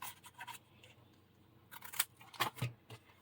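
Scissors cutting binder cover material near round corners, a few short close snips and slides of the blades over quiet background, with faint handling noise.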